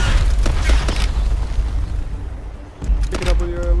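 A grenade blows up in the VR shooter Space Ops VR, giving a deep boom that swells and then fades over a few seconds, with game noise and voices around it.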